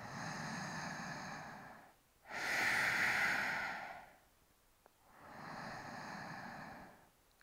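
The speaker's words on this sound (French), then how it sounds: "On prend ici 3 profondes respirations dans le cœur" Three slow, deep breaths are taken while preparing for a yoga headstand. Long airy inhales and exhales alternate near the listener with brief pauses between them.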